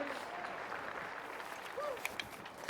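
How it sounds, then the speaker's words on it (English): A crowd at a polo club match applauds the teams from a distance, a soft steady patter of clapping under an announcer's voice, with a few sharper claps and a faint whistle. "let's give these teams another round of applause."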